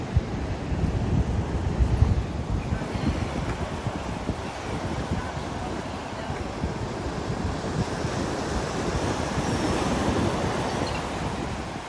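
Sea waves breaking on a Bicol shoreline with strong wind buffeting the microphone, a continuous loud roar of surf and gusts with no voices.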